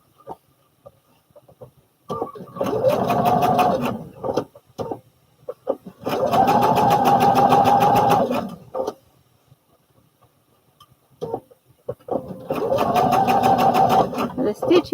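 A home sewing machine stitches a Butterick 5967 garment in three steady bursts of rapid mechanical whirring, each lasting a couple of seconds, separated by brief pauses with faint handling noises.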